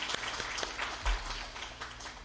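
Brief burst of clapping from a church congregation at an early-morning prayer service, applauding the accompanist and a deacon, dense and moderately loud throughout.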